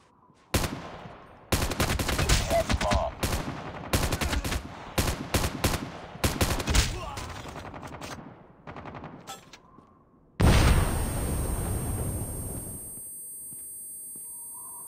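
M4 rifle fire in Call of Duty Mobile Search and Destroy: repeated loud automatic bursts with short gaps, then a long sustained burst near the end, with no talking.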